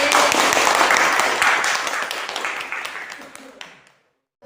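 A classroom of students applauding, a burst of dense clapping that starts loud and gradually thins out and fades to silence within a few seconds.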